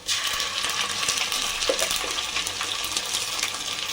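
Ginger paste fries with browned onions in hot oil for a veg curry, a loud, dense, continuous sizzle that stays even from start to finish with no voices.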